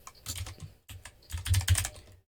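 Quick, close computer keyboard typing in dense bursts with a brief pause, heard alone without talk, during JavaScript coding in Node.js.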